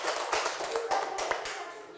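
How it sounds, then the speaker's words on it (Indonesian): A classroom group claps and taps in applause for a student group, a brief burst of several quick, uneven hand claps close by. "tepuk tangan untuk kelompok 1"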